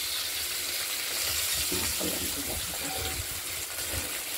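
Katla fish frying in a pan, a dense continuous sizzle with bubbling and spattering, loud and close, with faint background voices.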